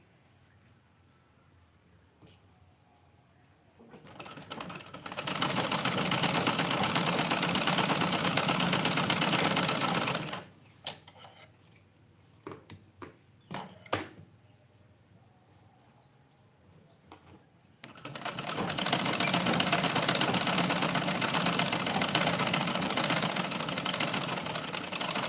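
A sewing machine stitches cloth in two long steady runs of whirring motor hum, fairly close, separated by a quieter pause with small clicks and handling noises.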